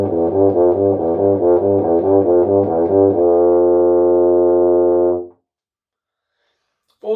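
Trumpet playing a Vizzuti method finger flexibility exercise, a rapid run of repeated short slurred notes that settles into a long sustained tone, close and loud, then stops into silence.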